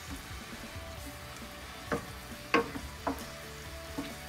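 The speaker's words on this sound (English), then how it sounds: "Add the heat up a little bit, just a little bit, so the mushrooms will speed up the cooking process" Mushrooms cooking in a pan over raised heat give a low, steady background sizzle, broken by several sharp scraping stirs at a near distance, with no talking.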